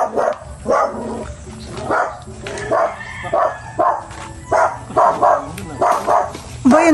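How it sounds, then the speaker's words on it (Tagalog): A dog barks repeatedly in short bursts near a banana grove, fairly close and loud, mixed with people talking between and over the barks. "Kami po itinatahol na itong aso."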